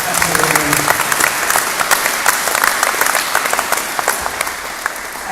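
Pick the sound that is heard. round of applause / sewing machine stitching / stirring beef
round of applause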